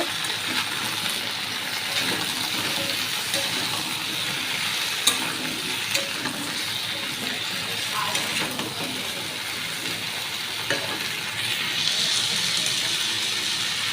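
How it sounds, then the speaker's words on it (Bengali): Taro and potato sizzle steadily in hot oil, a continuous crackling hiss with occasional small pops and clinks, no voices. "এবার গাঁটি কচু আর আলুটাকে ভাজা ভাজা করে নেব"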